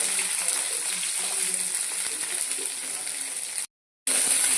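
Onions sizzling in hot oil after mustard seeds and urad dal have popped, for a Pudukkottai-style tomato chutney; a steady, fairly loud frying hiss with faint stirring, cut by a brief gap near the end.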